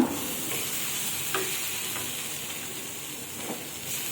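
Chopped green chillies sizzle in hot oil in a pan while being stirred for a pointed gourd do pyaza, a steady frying hiss with a few light scrapes and clicks from the spoon and no talking.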